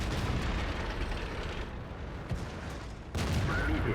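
Tank cannon fire and explosions in the World of Tanks video game, a dense, continuous booming rumble with a fresh loud burst near the end.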